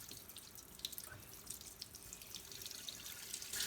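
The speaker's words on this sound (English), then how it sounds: "So I want to turn my water on" Water from a tap runs in a steady, faint stream, adjusted to a lukewarm temperature, with a soft continuous splashing hiss and no voices.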